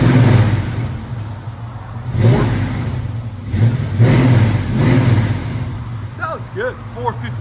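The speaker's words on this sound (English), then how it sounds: "Classic FLOWMASTER sound." A 1971 Chevy Chevelle with a 454 big-block V8 and Flowmaster exhausts with cutouts, revving up loud and close in repeated deep swells, with voices talking over it.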